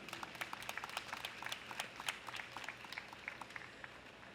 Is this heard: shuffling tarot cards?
no